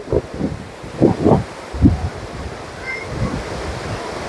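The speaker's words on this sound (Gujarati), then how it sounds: "કેવી રીતે ડેમ માંથી નીકળે છે જો પાણી" Water gushes out of Shetrunji dam in a steady broadband roar, with a few louder surging bursts and a wind-like rush throughout.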